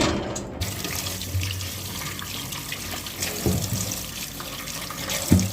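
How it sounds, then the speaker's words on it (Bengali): Homegrown garden mangoes are rinsed under a running tap, a steady close splash and hiss of water over a sink with occasional soft knocks as the fruit is handled. "আমগুলো করছি করছি ভালো করে ধুয়ে নিয়েছি"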